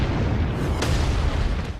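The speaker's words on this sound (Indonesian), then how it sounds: "Karena pemandu roh itu sudah aktif dan langsung meledak begitu saja." A level 9 spirit guide explodes in an animated fantasy battle, giving a loud, continuous rumbling blast with a sharp crack near the middle and sustained roaring debris throughout.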